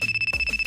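A phone ringtone from an incoming call plays during an indoor gathering, a bright repeating electronic tone pulsing in quick even beats over a sustained high pitch, close and clear with no talk.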